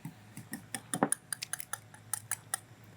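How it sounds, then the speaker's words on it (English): Sauce for barbecue starting to cook in a pan gives a scattering of small, irregular ticking pops and clicks, fairly quiet and close, with no talk over it. "we can hear this starting to cook already over here"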